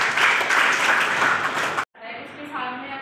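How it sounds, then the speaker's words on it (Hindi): Applause from an audience at a one-day de-addiction awareness camp, a dense wash of clapping that cuts off abruptly, followed by quieter room sound with a voice beginning to talk. "गुड, ताली बजाओ।"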